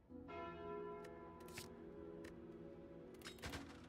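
A single Calling Bell relic rings out in Slay the Spire, a bright bell chime sustained over a steady hum of game music, with a few sharp shimmering strikes layered on top and no talking.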